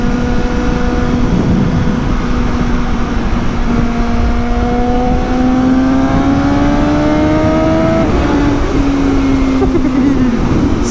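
A Suzuki GSX-S 750 motorcycle fitted with a quickshifter revs high in third gear on the road, its engine tone climbing steadily, then dropping and climbing again after a shift, loud and close under heavy wind noise.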